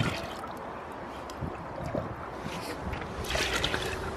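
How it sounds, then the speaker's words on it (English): A water siphon draining a garden moat during a backyard dig, giving a steady wet gurgling and trickling hiss that swells slightly toward the end, with faint background noise. "Water siphon."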